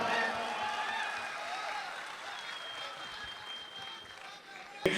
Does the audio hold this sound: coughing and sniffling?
no